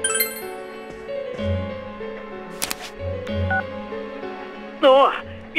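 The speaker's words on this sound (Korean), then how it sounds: "요스케에게전화걸어볼까" Phone dialing in Persona 4 Golden, a run of electronic keypad tones over soft game music, with a brief warbling chirp near the end.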